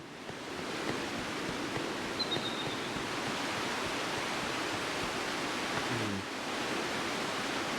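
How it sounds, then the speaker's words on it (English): Steady broadband rushing of a waterfall in the video game ICO, a constant even roar that fills the whole stretch with no talk over it. "That waterfall leads to the other room, so I don't want that."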